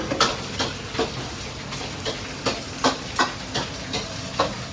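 Shrimp frying in hot oil in a small home kitchen for Thai cooking: a steady sizzle runs throughout, with regular louder crackling bursts about twice a second, close and moderately loud, with no talking.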